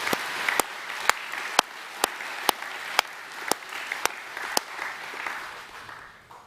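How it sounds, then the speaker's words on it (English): A school audience at an evening academic awards presentation applauds Year 11 award winners, a steady wash of clapping with sharp, evenly spaced loud claps standing out, fading toward the end. "Can we please give our Year 11 award winners a round of applause?"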